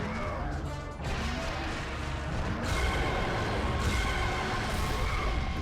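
Heavy crashing and smashing as an enemy is shattered in God of War, a dense, loud burst of impacts and debris that rumbles on continuously, near and full.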